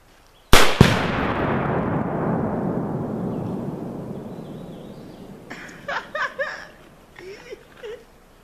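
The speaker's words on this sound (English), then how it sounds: "you will hear a boom from the trigger and then a boom from the tannerite" A single sharp, loud rifle shot cracks and is followed almost at once by a heavier tannerite explosion, whose boom rolls and decays over several seconds outdoors before people cheer and laugh in the distance.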